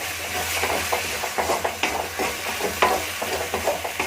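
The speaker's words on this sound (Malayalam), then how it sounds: "ഇനിയിപ്പം ഈ മുട്ടയും ഈ ഉള്ളിയും എല്ലാം കൂടെ നമുക്ക് നല്ലോണം മിക്സ് ചെയ്യാം." Eggs and onion stirred together in a hot pan for chicken fried rice, a continuous sizzle broken by repeated scraping strokes of a spoon at a steady rhythm, close and fairly loud, with no talking.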